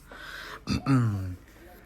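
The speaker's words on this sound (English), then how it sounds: "Let me clear my throat." A single close throat clearing, a rough burst followed by a low drawn-out rasping hum, heard alone.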